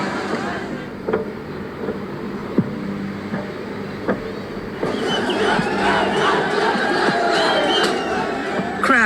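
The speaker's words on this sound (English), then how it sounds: "Crowds breach the Supreme Court" A protest crowd storms the Supreme Court during the September Gen Z protests, a dense roar of many voices with shouts and scattered bangs, swelling louder and more chaotic in the second half.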